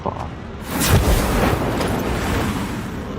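A loud grenade explosion in Call of Duty Mobile bursts out and rolls into a long rumbling roar that stays heavy and noisy to the end.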